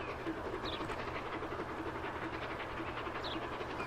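Steam train from the video game Transport Fever 2 rolls past, a faint, steady rumble and rattle of wheels and carriages that holds evenly throughout without talk.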